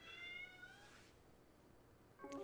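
A domestic cat meows in a short, bright call with stacked harmonics at the start, then a second quieter meow or chirp near the end, over faint room noise.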